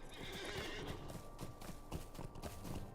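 Video game horse hooves in Lord of the Rings Online clip-clop at a steady trotting pace, moderately close, with a faint tonal hum running underneath.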